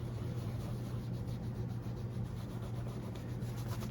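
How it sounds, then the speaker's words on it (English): Continuous hard scrubbing on a stained leather Magnanni dress sneaker, a steady close rubbing texture with fast repeated strokes and no talking over it. "I'm scrubbing fairly hard"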